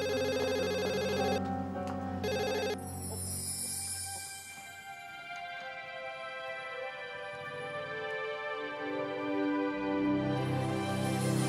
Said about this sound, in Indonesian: Iya, telepon.